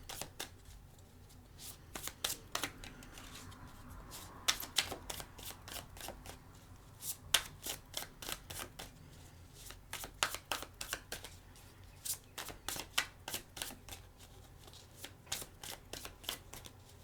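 Tarot cards being cut and shuffled by hand, a long run of crisp riffling flutters and soft slaps repeating steadily at close range, with no talking over them.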